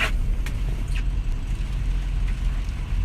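Car driving along a road, a steady low engine and road rumble holding evenly throughout with no break, close and moderately loud.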